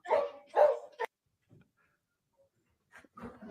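Dogs bark at a television, with two loud close barks and a sharp yip early on, then quiet, followed by softer grumbling barks near the end.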